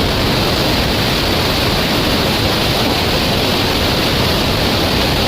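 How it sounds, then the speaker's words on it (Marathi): River water rushes strongly through open dam gates as a loud, continuous roaring wash that stays steady without pause. "तरीसुद्धा पाणी पहा कसलं जोरात चाललं आहे"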